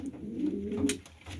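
Pigeons in a loft coo low and soft, a short murmuring call that is close and unaccompanied by talk.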